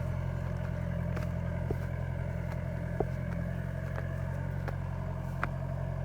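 A Mahindra 4x4 jeep grinds steadily up a steep off-road grassland track, its engine droning low and constant with occasional faint clunks and rattles from the body throughout.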